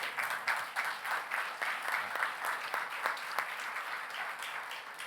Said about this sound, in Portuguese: Um aplauso.